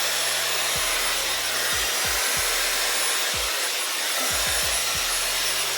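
A Dyson Airwrap fitted with the wide-tooth comb attachment blows a loud, steady whoosh of air as it dries hair, and several short rubbing and clicking sounds break through the continuous drone.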